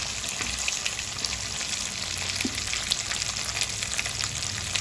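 Grated coconut frying in hot oil with curry leaves, ginger and garlic for a chicken masala, giving a steady close sizzle that runs unbroken throughout with faint stirring clinks.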